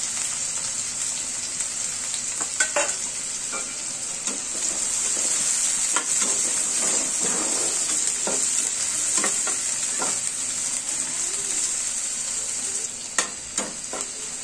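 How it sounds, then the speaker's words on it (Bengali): Chopped onion and garlic fry in hot oil with a continuous crackling sizzle, broken by the scrape and clack of a spoon stirring the pan, and no talking. "তেলটাও গরম হয়ে গিয়েছে পেঁয়াজ কুচি দিয়ে দিচ্ছি"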